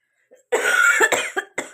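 A person with a cold coughs up close: one long harsh cough followed by a few shorter, quick bursts.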